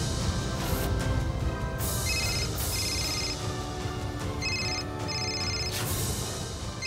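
A mobile phone ringtone sounds in a Hindi TV drama scene, with two repeated chiming bursts of ringing that stand out over continuous background music.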